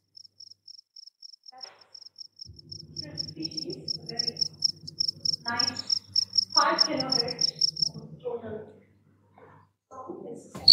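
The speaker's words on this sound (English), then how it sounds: "this is what typical chirping crickets look like" A rapid, steady train of high-pitched cricket chirps runs under a man's speech, then stops.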